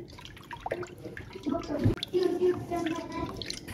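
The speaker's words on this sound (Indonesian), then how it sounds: "tambahkan 1200 ml air matang atau air yang sudah dimasak. Aduk-aduk kembali." Water poured and stirred into a sweet milk drink mixture, with liquid sloshing and splashing up close, a brief clatter, and a low voice under the sound.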